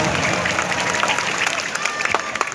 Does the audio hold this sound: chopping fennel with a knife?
no